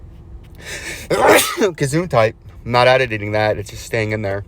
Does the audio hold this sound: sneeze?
yes